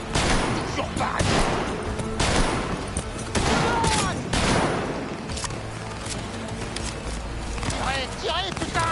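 Rapid bursts of automatic gunfire and single shots from the shooter video game Cyberpunk 2077 rattle continuously and loudly, mixed with impacts, crashes and shouted talk.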